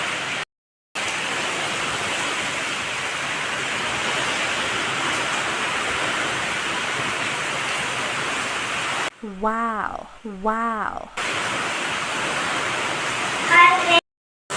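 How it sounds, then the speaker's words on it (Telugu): Steady broadband hiss of heavy rain pouring down, nearly continuous, with a person briefly exclaiming partway through. "మంచి వర్షం పడుతుంది చూడండి"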